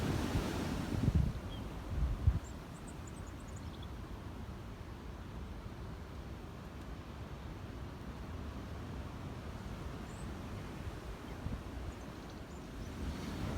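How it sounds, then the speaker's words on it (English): Strong gusting wind blows beside a small river, a steady loud rumble of buffeting air on the microphone for the whole stretch with no voices. "the wind is just absolutely insane today"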